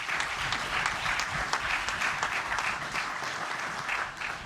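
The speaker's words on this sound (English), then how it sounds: "Please give the faculty and staff at this institution a round of applause for the hard work." Steady clapping from a crowd at a college graduation ceremony, dense and continuous with a few sharper individual claps standing out.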